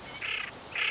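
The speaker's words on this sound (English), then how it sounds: "Pochard." A pochard duck calls twice in quick succession, two short, fairly clear bursts with a brief gap between them and no other sound around them.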